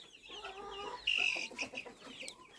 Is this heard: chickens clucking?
yes